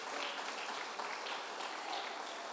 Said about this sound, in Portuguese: As palmas para o Senhor nesta noite.